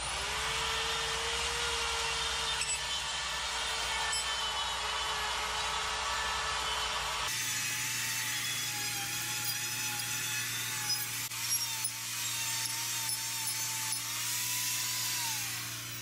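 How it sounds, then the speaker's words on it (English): A rotary burr smoothing and shaping a chainsaw-carved wooden tree, a continuous high whining power tool grinding against wood, changing pitch partway through, close and steady. "take this burr and start going around your tree and kind of just smoothing it up and shaping it just a little bit"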